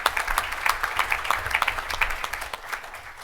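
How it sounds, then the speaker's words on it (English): A crowd at an organisation's staff update meeting applauds in a short, moderate round of clapping with distinct individual claps, fairly close, fading slightly at the end. "Let's give these folks a round of applause."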